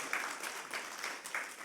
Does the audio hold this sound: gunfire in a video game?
no